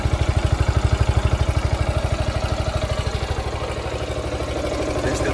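A Yamaha TownMate 50cc four-stroke motorcycle engine idles close up, its quiet, steady low putter firing in an even rapid rhythm with light mechanical clatter, smoothing slightly toward the end, with no talking over it.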